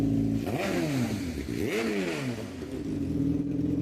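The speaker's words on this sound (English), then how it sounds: "sorry for the motorcycle." A motorcycle passes on a street outside, its engine revving and swelling twice in pitch over steady traffic noise, fairly loud and nearby with no talking.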